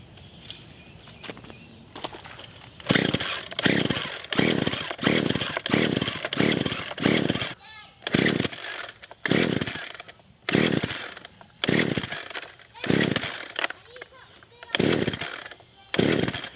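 A chainsaw cutting wooden foundation posts for a tiny home on stilts revs in repeated loud bursts, cutting in and then easing off, with short pauses between each cut.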